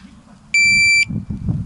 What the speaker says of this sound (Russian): Звучит сигнал таймера так.